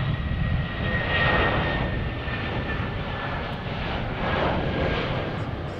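A Boeing 757 jet departs Chicago O'Hare with a loud, steady engine roar that swells slightly and holds throughout.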